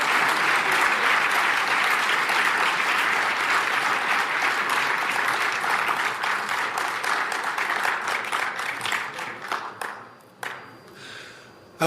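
An audience at a general assembly meeting bursts into sustained, dense applause that holds steady for most of the stretch, then thins into scattered claps before a final loud clap.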